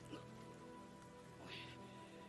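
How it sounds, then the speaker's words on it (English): Heavy typhoon rain in a Demon Slayer anime episode, a steady faint hiss of falling rain that runs without pause for a couple of seconds, with no voices over it. "He's out in the typhoon, bro. What is this quality of rain, bro?"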